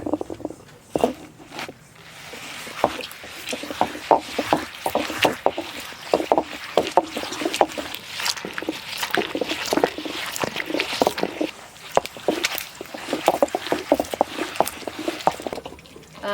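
Repeated rhythmic scraping and knocking of a stone grinder working a wet spice paste up close, with irregular thuds throughout.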